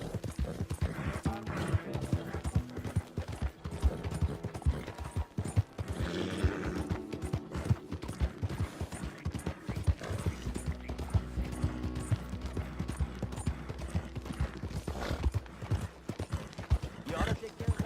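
Horse hooves clip-clop in Red Dead Redemption II, a steady walking rhythm under busy game sound with a snort or whinny and voices talking in places.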